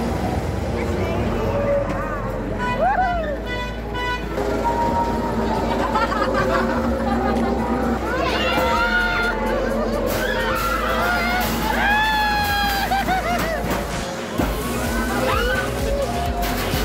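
Riders on a provincial fairground horror train shriek and laugh in a dense, continuous crowd din, high screams rising repeatedly over babble and a steady mechanical rumble.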